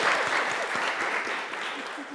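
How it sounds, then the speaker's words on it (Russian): A crowd applauds steadily at a children's awards event for the "Step into the Future" program, a dense wash of clapping that holds at a moderate level throughout without pause. "Аплодисменты, мне кажется."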